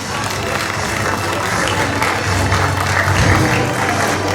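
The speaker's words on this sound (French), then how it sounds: "applaudis encore, applaudis, applaudis, applaudis" An audience applauds at a theology institute graduation ceremony, a continuous wash of clapping from a crowd with a low rumble of voices and movement underneath, steady and fairly loud throughout.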